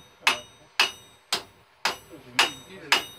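A 2.5 pound hammer strikes hot metal at a blacksmith's forge, six sharp ringing blows in a steady, evenly spaced rhythm, loud and close with short decays between hits.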